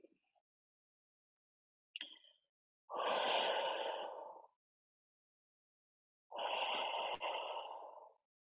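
Two long, audible exhales during a yoga forward fold, each a soft breathy rush lasting over a second, close to the ear, preceded by a brief faint intake and separated by a few seconds of quiet.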